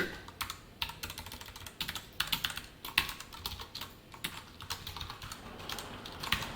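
Code being typed on a computer keyboard with rapid, fairly close key clicks in uneven bursts and no talking.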